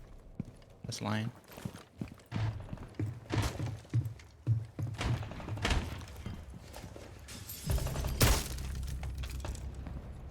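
Glass shattering during a tactical shooter match, sharp breaking crashes and thuds scattered among footsteps and impacts, with one loud burst near the end, under a player's voice talking.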